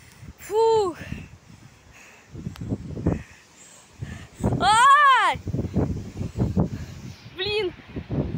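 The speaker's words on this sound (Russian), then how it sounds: "Я же говорила, что очень сильный ветер, меня аж сбило." Strong wind buffets the microphone in rough, low gusts outdoors among bare trees, while someone talks and exclaims loudly over it.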